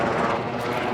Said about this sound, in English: Got a helicopter going over.